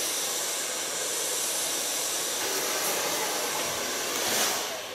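A hair dryer blows hair dry at a hairdresser's, a steady close whooshing roar lasting the whole time, shifting slightly as it moves, with no talk.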